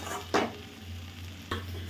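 Vegetables cooking with dried Bombay duck in a pan, a soft sizzle under two sharp scraping strokes of a spoon stirring, close and brief.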